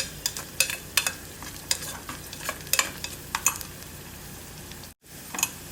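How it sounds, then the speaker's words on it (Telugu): Onions fry in a pan under a soft, continuous sizzle while a spoon stirs them, scraping and clicking in irregular bursts. The sound drops briefly to near silence, then the stirring resumes. "ఈ ఉల్లిపాయలు ఇలా బాగా ఎర్రగా వేగాలి ఇంకా కొంచెం ఎర్రగా వేగాలి"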